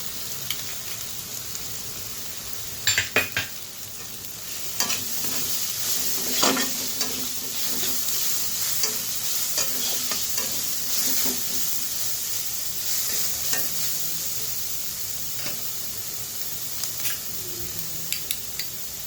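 Onions fry in a pan for a capsicum chop, with a bright, steady sizzle up close and occasional stirring scrapes and knocks.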